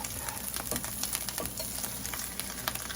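Egg foo yong fries loudly in a hot pan, a dense crackling sizzle with quick spatter pops and stirring scrapes throughout, with no talk.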